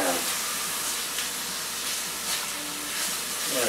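Meat browns in a hot pan with a steady, close hissing sizzle that holds evenly throughout, without pauses or speech.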